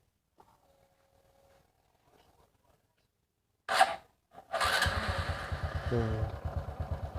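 After a few seconds of near silence and a couple of clunks, a Honda Wave 125i motorcycle engine starts and idles close by with a low, steady throbbing rumble, then rises briefly as it is revved.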